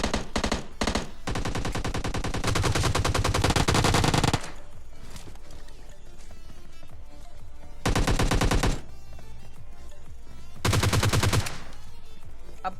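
Bursts of automatic gunfire from a firefight in the video game PUBG Lite, loud and close, with long sustained volleys separated by quieter stretches of scattered shots.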